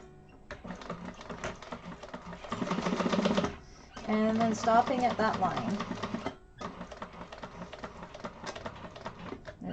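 A home sewing machine stitches fabric for a Penny Inn wallet at a slow, steady pace, its rapid mechanical clatter running in bursts with short pauses, while someone talks over it.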